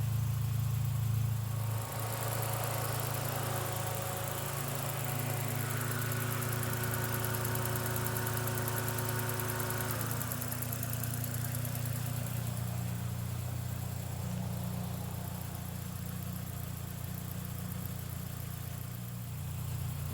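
A Toyota Corolla 2ZZ engine idles steadily after a coolant flush, a continuous low hum with faint whining tones, constant and close throughout with no talk.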